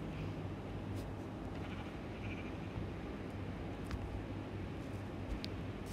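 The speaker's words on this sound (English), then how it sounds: "there's sheep down there." Sheep bleating out in a video game world, with soft calls rising now and then over a steady, dense background ambience.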